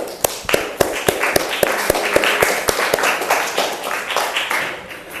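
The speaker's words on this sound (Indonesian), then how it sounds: "tepuk tangan untuk semuanya" Classroom clapping for everyone: sharp, distinct claps in a near-rhythmic pattern, close and loud over a bed of looser clapping and children's chatter.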